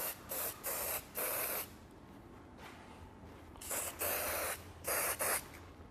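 Texture builder hair spray sprayed onto hair in a salon, several short hissing bursts in quick pairs with brief pauses between, close and crisp.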